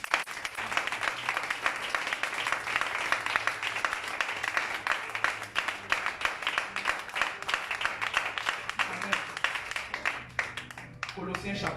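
A church congregation gives sustained applause during a French-language sermon, a dense, steady wash of many hands clapping together for several seconds before it thins out near the end.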